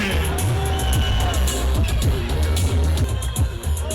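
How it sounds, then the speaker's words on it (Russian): Crowd noise at an MMA fight night in Derbent during a lap of honour around the octagon, a loud continuous hubbub with cheering and scattered bangs over a pounding low music beat, with some voices mixed in. "Под ваши аплодисменты!"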